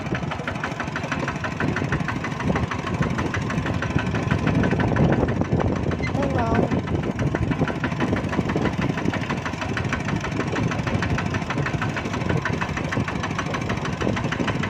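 A steady, rumbling engine of an e-taek farm tractor in Laos runs continuously at close range, with a low knocking throb and people talking faintly underneath.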